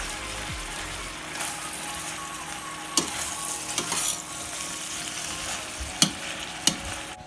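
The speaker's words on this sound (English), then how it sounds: "Give it a little bit of a stir" Onions seasoned with salt, pepper and garlic powder are stirred in a pan, with a soft steady sizzle under occasional sharp scrapes and clacks of the utensil against the pan.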